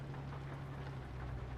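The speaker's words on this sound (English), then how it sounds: "I wanted to have rain in the game so bad" Steady, even rain hiss in Euro Truck Simulator 2 with the ProMods map, heard from inside a MAN TGX truck cab, with a low engine drone underneath. It continues without pause and without talk.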